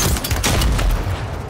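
Gunfire from a firefight in the Warzone 3 video game, with the FJX Horus conversion kit, heard as a dense, loud burst of overlapping shots and booms that runs throughout the moment.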